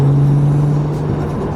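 Interior drone of a Toyota JZX100 Mark II on a stock ECU with no catalytic converter, cruising with a steady low engine hum and road noise, loud and continuous, no voices.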